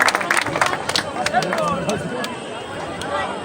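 A crowd claps at a prize giving for village horse racing in a field near Baruipur, with a burst of applause early on under loud announcing speech and general hubbub.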